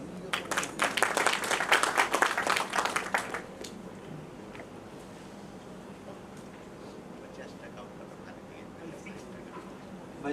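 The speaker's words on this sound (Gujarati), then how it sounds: "શ્રી જીનેશભાઈ શાહ, એમનું આપણે અભિવાદન કરીશું તાળીઓથી." An audience at an inaugural function claps together for about three and a half seconds, a dense burst of applause that quickly dies away into quiet hall ambience.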